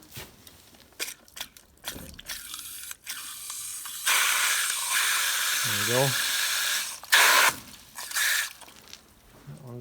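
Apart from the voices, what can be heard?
water flowing into dairy barn cow drinking cups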